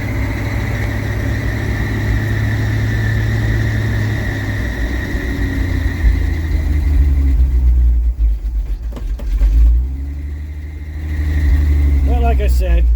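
A 1966 Ford bucket truck's engine, fitted with a new carburetor, idles with a steady low rumble after a cold start, then briefly dips and picks back up, with a voice speaking nearby.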